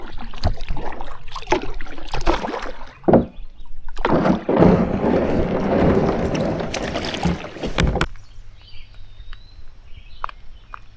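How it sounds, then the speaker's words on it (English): Gusty headwind buffeting a canoe being paddled on a river, loud roaring wind noise hitting the microphone in bursts with paddle splashes, then dropping away to quieter water sounds near the end. "when it really gets gusty, like it just did, it seems like I make zero progress"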